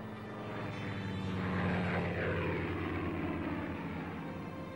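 Carrier-based WWII-era aircraft fly overhead in a Pacific carrier-battle setting, producing a loud, steady engine drone that swells toward the middle and holds with no voices.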